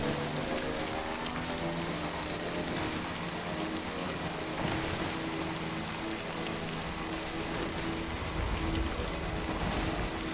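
Steady, dense rain hisses and patters on surfaces throughout in the video game Death Stranding, an even wash of falling water with no voices.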